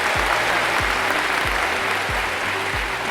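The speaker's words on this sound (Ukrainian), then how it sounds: "Включайте ці оплески, де вони, де вони?" Canned applause sound effect plays continuously, a dense clapping crowd, with a low rhythmic thumping beat repeating underneath; no talk over it.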